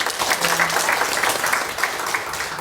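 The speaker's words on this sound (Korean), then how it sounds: "박수 한번 하겠습니다." Church congregation applauding during a Sunday service, a sustained burst of dense clapping heard up close and fairly loud, with no one talking.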